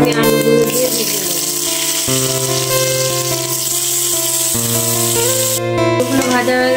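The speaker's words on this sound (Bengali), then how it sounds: "আমি আলুগুলো দিয়ে ভেজে নেব।" Potatoes fry in hot oil in a wok while a steady sizzle hisses beneath prominent tonal background music that changes pitch a couple of times.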